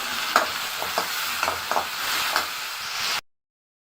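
Chopped onions and tomato sizzle and fry in a pan for mutton leg paya, a steady close hiss broken by stirring scrapes and knocks, ending in sudden silence.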